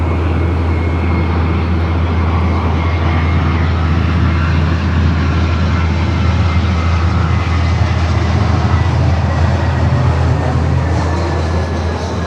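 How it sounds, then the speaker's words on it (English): A United Airbus A320 arriving at LAX from SFO produces a loud, continuous jet engine roar with a steady low hum underneath, sustained and unchanging throughout. "United A320 coming from SFO at next arrival here on the north."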